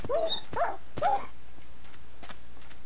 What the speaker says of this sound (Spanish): Está muriendo uno. Típico perro que se muere.